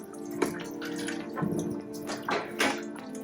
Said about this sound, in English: There's a lot of water in there.